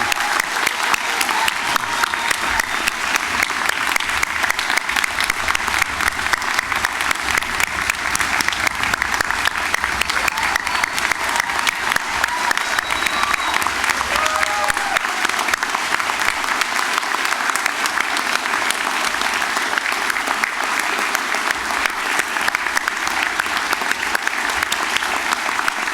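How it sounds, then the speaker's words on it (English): Sustained, dense applause from a convocation crowd honoring graduates, a steady roar of many hands that continues evenly for nearly half a minute with no break. "join me in a round of applause for our amazing graduates"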